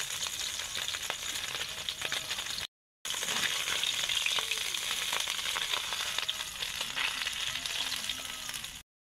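Small puti fish frying in hot oil, a steady close sizzle with light crackles and a few soft stirring clicks, briefly cutting out once.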